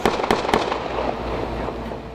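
Gunfire in a residential neighborhood during a police gun battle: three sharp, loud cracks in quick succession at the start, followed by a fading echoing rumble.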